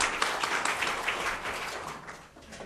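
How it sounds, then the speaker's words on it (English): Conference attendees at a world meeting on combating terrorist financing give a quick round of applause, a dense clatter of many hands that tapers off gradually toward the end. "So a quick round of applause for Bob."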